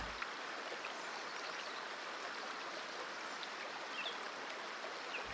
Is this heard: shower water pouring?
yes